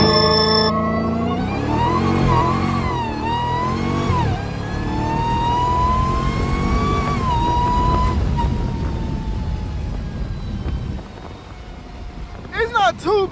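A 700-horsepower Dodge Hellcat launches with its engine revving, its pitch climbing and dropping through several rises in a loud, sustained roar, with voices talking over it.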